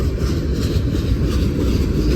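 Freight train boxcars roll past close by, a loud, continuous low rumble and grinding roar with no break across the short span.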